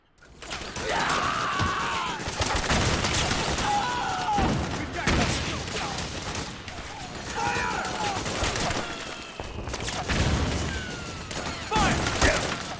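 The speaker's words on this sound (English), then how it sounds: "I got hit by a stray bullet." Rebels trade gunfire in the war-zone shooter Metal Gear Solid 4: Guns of the Patriots, with bursts of rifle fire, machine-gun rattles and scattered shots that run almost without a break over a busy battlefield mix, and someone talks over the top.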